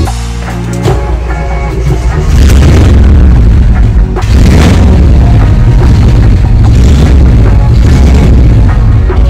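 Cold start of a 1977 Volkswagen Bus engine: the starter cranks briefly, then the air-cooled motor catches and runs as a loud, heavy, rumbling idle close to the microphone, surging once before settling into a steady roar.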